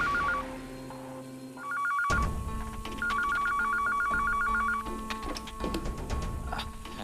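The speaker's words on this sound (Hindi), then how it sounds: "फोन? अभी तो फोन बंद था, ये शुरू कब हो गया?" Telephone rings in a home with a repeated electronic trilling tone in short bursts, the bursts coming faster later over a clattering background.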